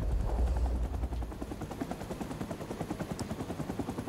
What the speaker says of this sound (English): machine gunners on the side to just kind of fire